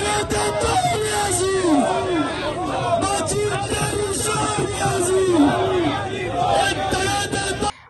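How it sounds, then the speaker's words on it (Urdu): A street protest rally crowd in Sialkot chants political slogans against Imran Khan in loud, rhythmic unison, the repeated call-and-response phrases rising and falling continuously over a dense background of crowd noise. "ریلی کے شرکاء گو عمران گو اور ایک ٹگے دے دو نیازی مکی گیا تیرا شور نیازی نعرے لگواتے رہے"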